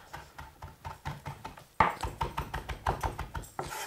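A kitchen knife rough-chopping fresh thyme leaves on a cutting board, a quick run of crisp, regular taps close by, around four chops per second, with one sharper knock partway through.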